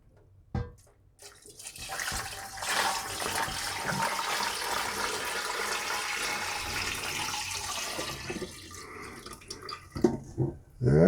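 Date wine streams steadily into a one-gallon jug for several seconds, a continuous gurgling pour that tapers off with a few splashes and clinks at the end.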